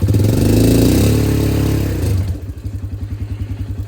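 An Arctic Cat 400 ATV driving in low range reverse, its engine loud and close at first, then settling into a steady, rhythmic chugging and clattering as it crawls along.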